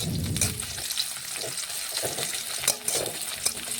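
Onions fry with chopped tomato and salt in a pan as a spoon stirs them, giving a close, busy sizzle broken by scraping and clattering strokes.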